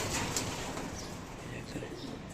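Fancy pigeons, Danish and magpie breeds, coo steadily inside a loft, a continuous soft murmur of several birds close by with faint chirps above it and no talking.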